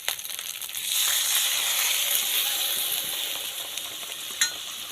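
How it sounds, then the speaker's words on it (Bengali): Water poured onto spiced masala sizzling over a low flame for egg korma makes the frying hiss swell into a loud, steady sizzle that sputters on, with a brief clink near the end. "হালকা আঁচে মশলাটা পাক করে নিতে হবে জল দিয়ে দেবো"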